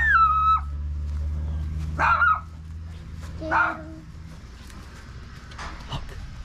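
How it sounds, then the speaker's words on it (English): A chihuahua gives a couple of short, yappy barks a second or so apart, against a low steady hum with a brief squeal at the start. "Is that a chihuahua in Mexico?"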